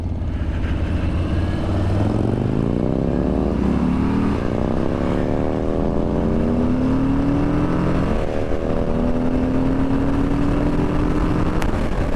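A Harley-Davidson motorcycle, a 2020 Low Rider S or 2021 Softail Standard, roars loudly up close as its V-twin engine accelerates through gears, each rising rev sweep followed by a shift, under steady wind noise.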